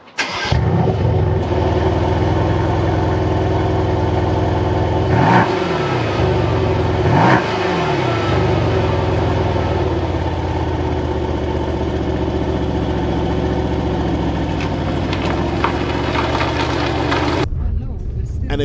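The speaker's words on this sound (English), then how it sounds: "this AMG Mercedes-Benz C63S, offering up 510 brake horsepower with this V8 bi-turbo" Mercedes-AMG C63S with its 510-horsepower twin-turbo V8 runs loud and steady throughout, with two brief dips in pitch as it revs up and down, then cuts off abruptly near the end.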